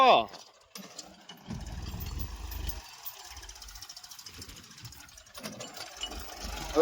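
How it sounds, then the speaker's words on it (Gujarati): A farm tractor engine idles and chugs at mid distance with a steady rumbling knock, rising and easing slightly, while people talk intermittently over it. "હવે આવે છે ટ્રેક્ટર મિત્રો"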